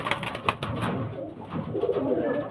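Pigeons in a loft give soft, low cooing over a steady background, with several overlapping coos and no talking.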